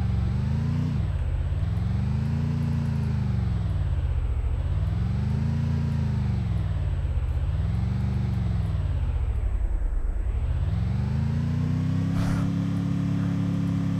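A car engine in the Free Fire game revs up and down in repeated rising and falling waves, a loud close drone, ending in a steady higher hum.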